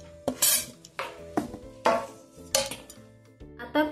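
A spoon scrapes and clatters in a metal pot as the last onion is added and stirred into a vegetable dum biryani, in sharp, irregular bursts of clinks and scrapes separated by brief pauses.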